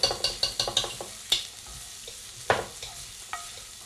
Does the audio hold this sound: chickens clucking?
no